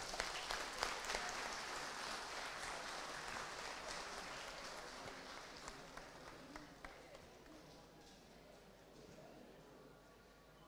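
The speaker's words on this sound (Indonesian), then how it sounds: "beri tepukan yang gemuruh" Audience applause greets a bank branch's official launch ceremony, a continuous, fairly faint roar of clapping with scattered sharper claps, slowly fading over about ten seconds.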